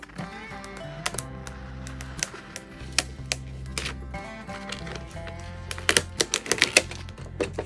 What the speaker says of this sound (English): You're going to just carefully peel back the transfer tape.